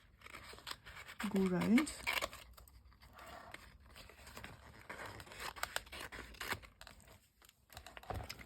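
Scissors cut out shapes from old book pages in a quick series of close snips and paper rustles while someone talks over them.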